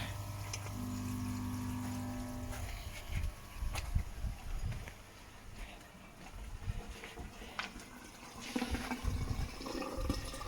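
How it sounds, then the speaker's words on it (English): A koi pond pump is switched on and water rushes into a mountain tree skimmer, with a low mechanical hum at first giving way to a steady, close wash of flowing, filling water. "So let's turn the pump on."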